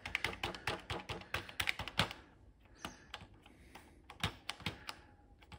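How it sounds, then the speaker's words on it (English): Keys and the space bar on the tiny keyboard of a Tesla PMD 85-2A computer are pressed in a quick, close run of plastic clicks, then a sparser scatter of taps after a short lull. "tiny little keyboard, space bar."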